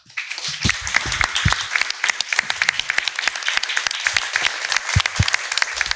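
Loud, dense applause from a conference audience fills the whole stretch, many hands clapping steadily with no one speaking over it.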